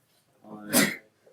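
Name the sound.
a person sneezing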